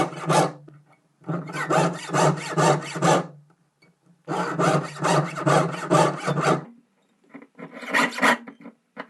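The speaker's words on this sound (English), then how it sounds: "we've sawed out the excess of the back plate" A fine jeweller's saw cuts through a silver brooch back plate, trimming away the excess metal in fast, rasping strokes. It comes in three close bursts separated by short pauses, with no talk.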